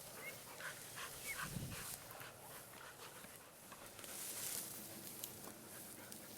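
A hunting dog retrieves a shot bird in the field, heard as a dog's whimpers, yips and panting close by over outdoor background noise, with no clear speech.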